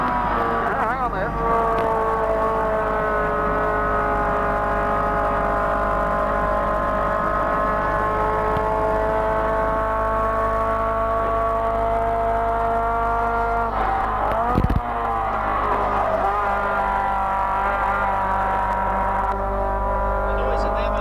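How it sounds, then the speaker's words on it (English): Race car engine roaring steadily from inside the cockpit at Bathurst, a loud continuous drone with a sharp jolt midway and a brief change in pitch near the end. "The noise in there must be deafening, Pete."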